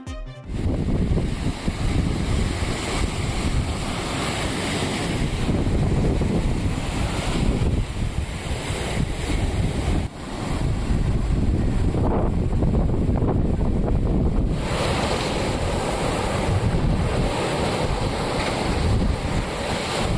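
Rough sea surf and strong gusting wind buffet the microphone on the Rameswaram coast during a cyclone, a continuous loud roar of crashing waves and wind with no voices.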